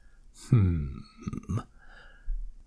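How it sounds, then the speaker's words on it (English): A single short, low burp from a man, slight and close, followed by a brief murmur of speech and a faint low thump. "gave out a slight burp"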